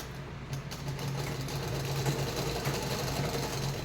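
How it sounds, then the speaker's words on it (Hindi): A sewing machine runs steadily while stitching down a folded blouse collar, a faint continuous mechanical whir with no talking. "ऐसे फोल्ड करके और मैं ऐसे सिलाई कर दूंगी इसको"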